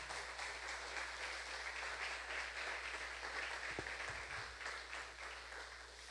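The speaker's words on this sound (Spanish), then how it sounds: "dale una ofrenda de palmas a Jesús" A church congregation applauds together, a steady wash of clapping that carries on for several seconds, moderately loud and unbroken.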